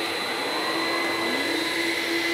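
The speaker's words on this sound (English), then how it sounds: "we have this vacuum cleaner" A vacuum cleaner drones loudly and continuously, a steady whining motor hum with a rising pitch partway through.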